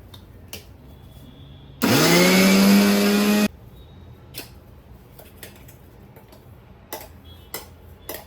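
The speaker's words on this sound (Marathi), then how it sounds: "शेंगदाणे, गूळ, तूप, वेलची पावडर आणि तीळ चांगलं ना असं हे बारीक केलंय" A kitchen mixer grinder whirs loudly for about a second and a half, grinding peanuts, jaggery, ghee, cardamom powder and sesame seeds for sesame modak, then cuts off, leaving light clicks and taps around it.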